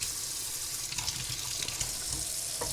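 Warm tap water runs steadily into a sink to rinse developed color film at home, a continuous close hiss and splash with a few small clinks, no voices.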